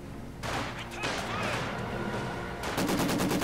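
A Maxim machine gun firing in Company of Heroes 2, rattling in rapid bursts that overlap other battlefield gunfire, dense and mid-distance, with a fresh burst near the end.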